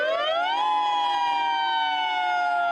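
Maui outdoor warning siren giving its nuclear attack alert, a tone sweeping upward then holding a long, loud, steady wail that sags slightly in pitch, heard alone without speech.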